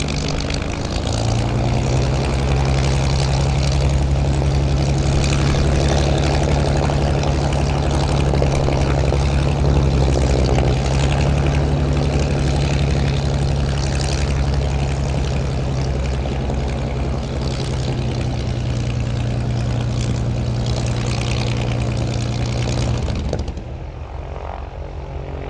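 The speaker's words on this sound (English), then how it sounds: "I thought I'd let that roll a little bit there just to let you hear the sound of the Spitfire." A Supermarine Spitfire's propeller engine runs at Blackpool Airport with a loud, steady drone and deep hum that holds for over twenty seconds, then drops off abruptly near the end.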